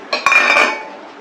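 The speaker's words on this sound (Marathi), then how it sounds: "आता मी ह्याच्यामध्ये घालते शेंगदाणे." Peanuts tipped into a metal pan of fried poha, a short, loud clatter and rattle of nuts hitting the pan that fades quickly in a little over a second.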